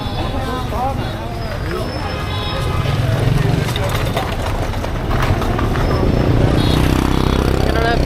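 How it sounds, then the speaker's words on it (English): Busy street in Ho Chi Minh City, with a steady dense wash of traffic, motorbike engines and crowd babble all around, loud and continuous and building slightly toward the end. "there's so much noise, so much going on. Traffic, people, motorcycles."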